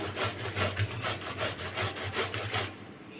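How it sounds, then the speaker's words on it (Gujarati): Bottle gourd (dudhi) rubbed against a hand grater for handvo, a close run of quick rasping strokes repeating evenly for a few seconds, with no voices. "દૂધીને છીણી લઈશું આખી દૂધીની છેણી લેવાની છે"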